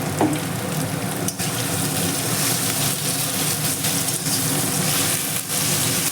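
Potatoes fry in a pan for a bottle gourd and prawn dish, giving a loud, steady sizzle up close that runs unbroken, with a few faint stirring scrapes.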